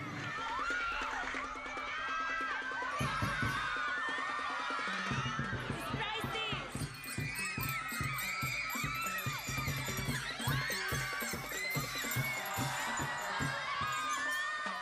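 A large, lively crowd of Filipino Miss Universe fans fills the space, with a dense bustle of many overlapping voices, scattered shouts and cheering, heard at a distance and fairly faint.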